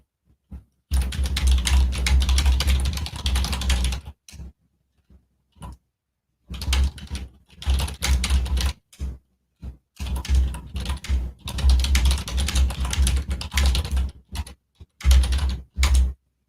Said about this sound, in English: I don't want y'all to hear all this typing